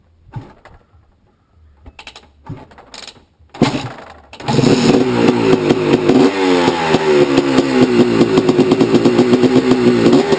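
A 1986 Honda ATC250R three-wheeler with a freshly rebuilt top end is kicked over a few times, then fires and revs repeatedly, a loud close buzzing two-stroke engine rising and falling.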